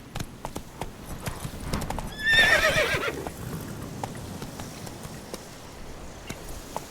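Roach the horse gallops in The Witcher 3: Blood and Wine, steady hoof clip-clop running throughout with a brief whinny and a burst of louder noise near the middle, no talk.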